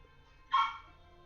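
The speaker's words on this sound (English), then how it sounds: "Dog!" A dog gives one short, sharp bark indoors in an otherwise quiet room, moderately close and standing alone.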